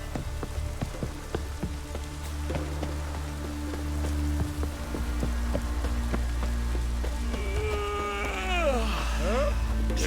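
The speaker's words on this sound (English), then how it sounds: "Maybe we needed a spot of rain." Steady rain falling in the Witcher 3 video game, a continuous wash of patter under layered game ambience and music, with rising tonal sweeps near the end.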